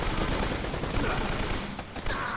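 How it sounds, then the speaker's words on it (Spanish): A heavy machine gun fires in the game Uncharted: Drake's Fortune, a dense, loud, continuous burst of rapid shots that fills the whole moment. "Esa que oís es la metralleta pesada de la que os estaba hablando"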